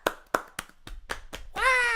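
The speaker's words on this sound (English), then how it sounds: "Everybody clap." A handful of separate, sharp claps ring out in a sparse rhythm from a virtual audience in Nintendo Switch Sports, followed by a brief bright tonal flourish.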